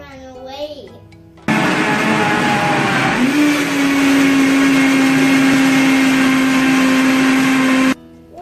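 A loud, steady blender whir making vegan nacho sauce starts abruptly and runs for several seconds with a rising pitch that settles into a constant hum, then cuts off; someone talks briefly before.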